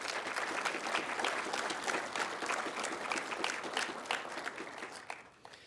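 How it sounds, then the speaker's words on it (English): Applause from an audience at an inaugural council meeting, a sustained patter of many hands clapping in a room, even at first and then thinning and fading out toward the end, with no talk over it. "So maybe we could have a round of applause for these folks."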